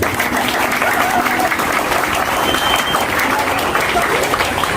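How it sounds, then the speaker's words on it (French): Dense, sustained applause from a large audience fills the whole stretch, loud and even with no break. "Applaudissez-vous s'il vous plaît."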